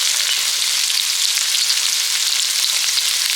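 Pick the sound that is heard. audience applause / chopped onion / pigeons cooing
chopped onion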